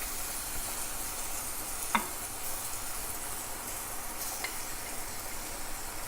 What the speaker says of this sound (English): We're just gonna lightly saute our kimchi for like a minute, not much longer, just to all warm it up together with our spicy pork